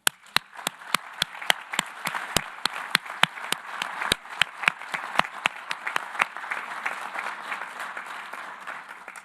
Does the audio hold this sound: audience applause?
yes